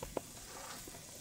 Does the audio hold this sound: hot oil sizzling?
yes